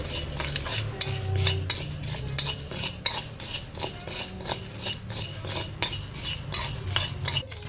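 A metal utensil stirs and scrapes spices dry-roasting in a pan over medium heat, producing repeated rhythmic scraping and clinking strokes, close and fairly loud, with no voices.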